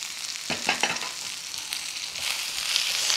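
Raw mango pieces cut with the skin on are stir-fried with ginger garlic paste in a pan, giving a steady close sizzle with a few spatula scrapes near the start and the frying growing louder toward the end.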